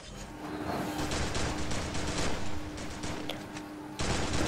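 Gunfire in a Free Fire ranked match, a dense close volley of shots with crackling impacts, briefly easing before a final loud burst near the end.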